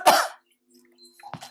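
A single sharp cough to clear a tickly throat bursts out loud at the start, followed after a short pause by a quieter second throat-clearing rasp.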